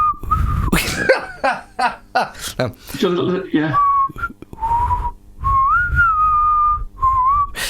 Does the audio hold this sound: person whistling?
yes